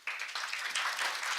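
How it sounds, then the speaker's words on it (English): An audience at a Korean-German climate and environment forum applauds after a speech, a brief burst of dense clapping that swells and holds close throughout. "Let us all give a big round of applause to Dr. Ann Yupener for her insightful remarks."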